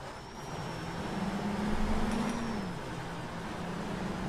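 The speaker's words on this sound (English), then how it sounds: "see the truck's revving here and there every now and then" Ural 6464 truck engine in Euro Truck Simulator 2, a steady low drone that swells and eases slightly as the revs rise and fall, continuous and fairly close with no talk.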